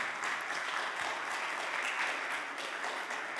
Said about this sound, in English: this is your applause to the panel here, to Nathan, Scott, Jasmeet, Alina, and Benja